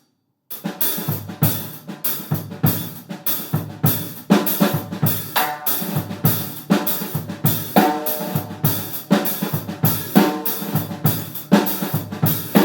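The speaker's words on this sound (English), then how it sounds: "Now we can add a variation on the snare drum just like we did" A calypso drum groove with a snare drum variation plays after a short silent start, the snare struck with sharp rim shots over steady kick and hi-hat in a repeating, bouncy pattern, loud and close.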